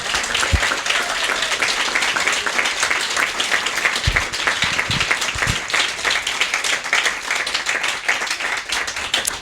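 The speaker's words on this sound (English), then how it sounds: "I would ask you to join me in applauding and thanking the candidates for coming this" An audience at a school board candidate forum applauding the candidates, sustained dense clapping from a full room lasting the whole stretch, fairly loud and even.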